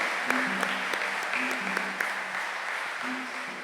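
Congregation applauding during a Saturday morning Mass honouring the Virgin Mary, a steady, fairly quiet patter of many hands clapping at once, with a few faint voices mixed in.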